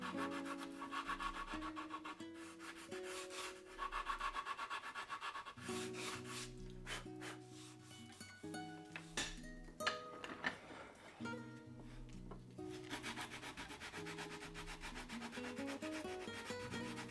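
A wooden leg is sanded by hand in steady back-and-forth strokes, close and continuous rasping friction with a rhythmic scratchy texture and no talking.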